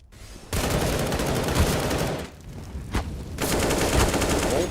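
Rapid pistol gunfire from a Counter-Strike match on the Train map, P250 shots firing in dense bursts that run nearly the whole time, briefly easing in the middle before resuming loudly.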